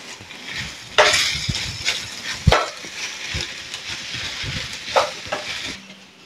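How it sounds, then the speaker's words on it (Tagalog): Chicken pieces stirred in a hot pan while cooking chicken pastil, with steady close sizzling, scraping of a utensil and a few sharper clatters against the pan. "At i-add na natin yung ating chicken. So halo-halo lang."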